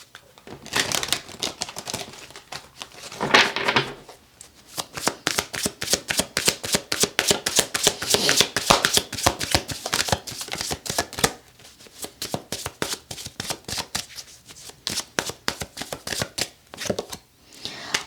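Tarot cards being shuffled by hand, a long run of rapid, crisp riffling flutters that comes in bursts with brief pauses, close and fairly loud, with no speech over it.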